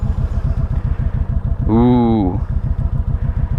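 A 2019 Kawasaki Vulcan Vaquero motorcycle pulls away with a steady, rhythmic engine thump, close and loud, while a voice briefly exclaims partway through.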